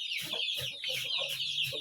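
Chickens cluck steadily in a quick, repeating rhythm, several birds close by, with a high chirping chatter running underneath the whole time.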